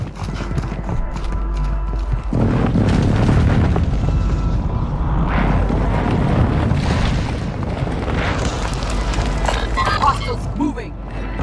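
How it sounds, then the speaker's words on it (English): Airstrike explosions in Warzone 2, a heavy rumbling barrage of booms rolling continuously after a short quieter lead-in, loud and close, with crackling debris on top. "Hostiles called in an airstrike."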